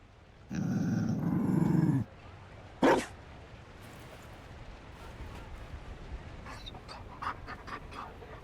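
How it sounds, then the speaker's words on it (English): A Mabari war dog in a fantasy video game, heard as a loud panting growl lasting about a second and a half, then a sharp short yelp, then faint snuffling and soft game ambience. "You found a dog?"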